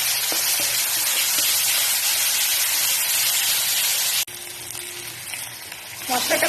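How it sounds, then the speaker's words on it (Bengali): A spice tempering of onion, garlic, ginger and chilli fries in hot oil for a pahadi mixed dal, a loud, steady close sizzle that breaks off abruptly, then returns quieter with faint stirring. "মশলাটা ভাজা ভাজা হয়ে গেছে।"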